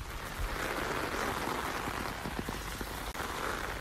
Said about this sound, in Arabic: في مطر عندك